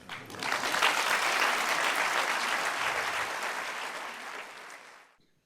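An audience claps after a talk at an event in Marseille, swelling quickly into steady, dense applause that holds for several seconds before fading out to silence.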